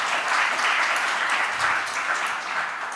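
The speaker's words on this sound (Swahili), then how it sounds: "Tumpigie makofi tena." An audience at a legal talk on marriage and succession law claps together in a sustained, even round of applause lasting a few seconds.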